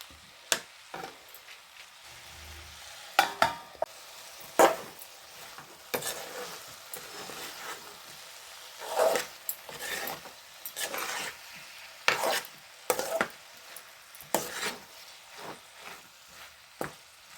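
Tomato and brinjal curry frying in a pan, a low sizzle under repeated scraping stirs and clatters of a spoon against the pan, irregular and close.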